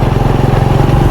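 Motorcycle engine running on a ride along a road, a loud close rhythmic putter with a steady pulsing beat throughout, no talk.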